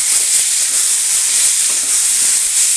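Chopped medium-size tomato frying in a pan for an egg and potato curry, a loud, steady sizzle with a bright hiss that runs unbroken throughout, with no talking.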